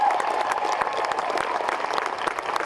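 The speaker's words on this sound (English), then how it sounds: "Big round of applause" A crowd at a Tri For A Cure 2017 cancer fundraiser claps in sustained applause, dense and steady throughout, fairly loud and close.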